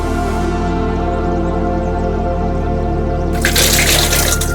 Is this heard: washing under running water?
yes